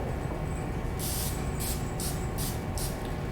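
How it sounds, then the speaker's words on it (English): Several short hissing bursts of cooking spray onto a lure-casting mold, about five in a row, over a steady low background hum. "We use a little bit of the cooking spray on each half of the mold."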